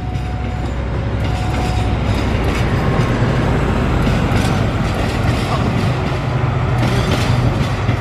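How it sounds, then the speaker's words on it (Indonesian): The Argo Sindoro express passes straight through Cikampek station without stopping, its cars rolling by close and loud in a steady rumbling roar with faint clacking wheels and a hint of voices in the background. "Kereta api Argo Sindoro melintas langsung stasiun Cikampek."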